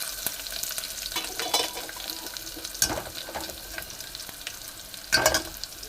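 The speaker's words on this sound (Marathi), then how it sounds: "आता टाकायचा कांदा." Onion frying in hot tempering oil with mustard seeds, cumin, curry leaves and chilies for kadhi, a continuous close sizzle broken by a few louder bursts of hissing and stirring scrapes.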